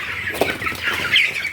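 Broiler chickens on a farm, caught and startled, give agitated clucks and squawks with brief bursts of wing flapping, close and fairly loud, with no talk.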